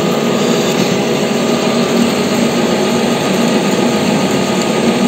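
A drill press whirs steadily as it bores through metal, a loud continuous grinding hum without pauses or talk.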